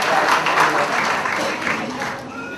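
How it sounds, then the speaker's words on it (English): Steady applause from a crowd at a 75th birthday celebration fills the space, with a voice speaking faintly underneath. "That deserves a great applause."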